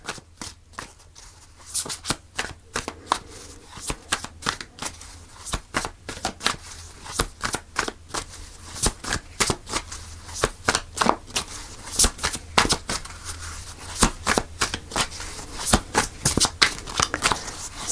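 Tarot cards are shuffled close up in a quiet room, a long run of sharp, irregular riffling slaps and flutters.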